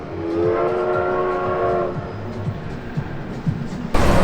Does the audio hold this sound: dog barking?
no